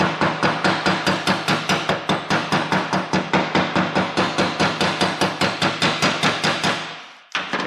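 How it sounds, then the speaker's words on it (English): A steady run of about thirty quick, even soft-hammer taps on a metal part during a Toyota 2JZ engine build, close and sharp, ending abruptly after a brief pause with one final tap. "taking my hammer here, it's a little soft hammer, and just going around this slightly"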